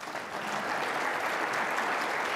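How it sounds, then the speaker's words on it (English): Dense, steady applause from a crowd, loud and continuous throughout with no gaps. "Please give them a round of applause."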